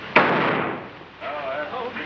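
A single sharp gunshot cracks out in a western film, followed by a decaying echo and then a voice speaking.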